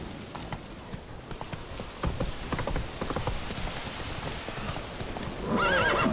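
Geralt's horse Roach from The Witcher 3 hammers out rapid hoofbeats over a rainy backdrop, with a whinny rising near the end.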